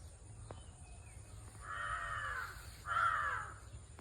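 Two harsh cawing calls from a crow, a little distant, against a quiet outdoor hum beside the Kappad stream.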